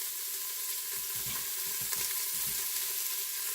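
Sliced onions fry in oil inside an Instant Pot, giving a steady, faint sizzle with a few soft stirring scrapes and no talking.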